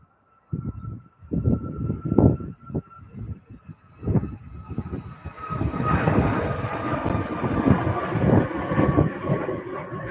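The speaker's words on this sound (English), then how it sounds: "Ryanair jetting off by the look of it." A Ryanair jet taking off at Manchester Airport, heard as a rumbling, whooshing engine roar that surges and swells into a steady, loud wash of broadband noise, with a high whine holding throughout.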